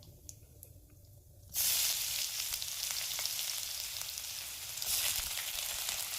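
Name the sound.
garlic and ginger frying in hot oil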